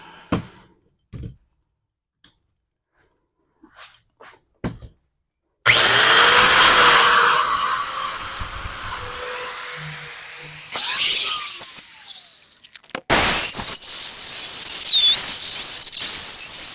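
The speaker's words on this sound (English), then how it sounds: "I'm just going to grind this down flat" A power grinder runs continuously on a nasty old bolt head, grinding it down flat: loud, sustained whining buzz with shifting pitch, briefly dropping out and resuming, after a few quiet knocks at the start.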